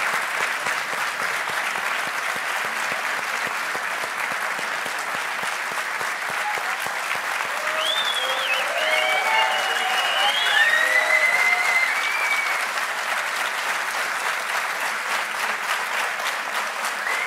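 A sustained wave of audience applause at the closing ceremony of national sessions, dense clapping from a large crowd holding steady for over fifteen seconds, with faint voices and a few whoops rising briefly in the middle.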